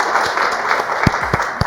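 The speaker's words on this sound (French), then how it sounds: "Applaudissements pour Salif Akeman" Audience applause for Salif Akeman at a French talk-show style café event, a dense steady patter of many hands, fairly close, with a few louder claps and low thumps near the end.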